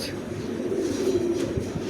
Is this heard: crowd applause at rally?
no